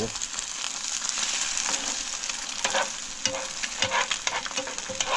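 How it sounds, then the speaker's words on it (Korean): Egg frying sunny side up in a worn, peeling nonstick pan aboard a yacht, a steady close crackling sizzle with small pops and brief scraping stirs throughout. "완전히 사이드업으로 요건 하나 뒤집고"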